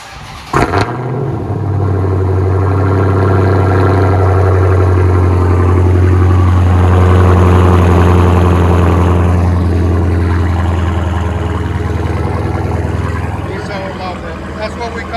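A Dodge Challenger with factory dual exhaust and tips built into the bumper fires up with a sharp burst, then settles into a loud, steady, deep idle rumble close by that holds for the full stretch before easing slightly at the end.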